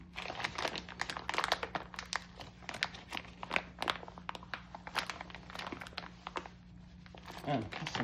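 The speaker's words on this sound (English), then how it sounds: "Box in a box in a bag. Alright, we want to tear it open." Plastic packaging bag is torn open and crinkled by hand, close and continuous for several seconds, with many sharp crackles and rustles, a low steady hum underneath and a faint voice.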